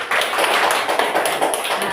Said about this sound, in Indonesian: kita berikan dulu aplaus atas hasil pemaparannya